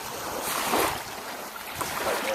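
Ocean waves wash onto a beach in a steady broadband rush, with light wind buffeting the microphone and no voices.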